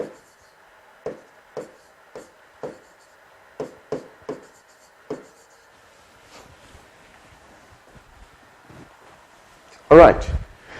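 Short scratchy strokes of a pen or marker writing out a maths problem on a board, about a dozen quick marks in a loose rhythm, close by, followed by a louder scuffing burst near the end.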